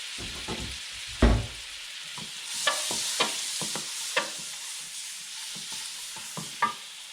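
Soft sizzling of stir-frying in butter and a little oil in a pan, a steady faint hiss with scattered spatters and scraping stirs, one louder clatter early on, no talking.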